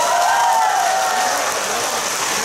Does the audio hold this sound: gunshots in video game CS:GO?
no